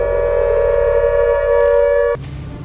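Loud, steady wailing war siren in Pakistan holding one tone alone, then cutting off abruptly near the end into a lower hum.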